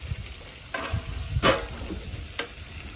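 Vegetables for khichuri being stirred and sautéed in a pot: a few scraping spoon strokes over a soft, low sizzle, fairly quiet and close, with no talk.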